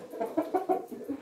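A rooster gives a rapid run of short, close clucks in an uneven rhythm, loud and clear without any talk.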